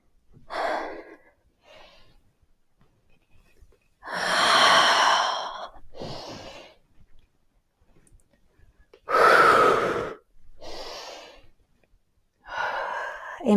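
Slow, deliberate breaths during yoga movements, a few loud inhales and exhales alternating with softer breaths and quiet gaps, close and alone with no speech.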